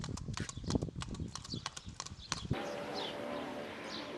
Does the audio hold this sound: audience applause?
no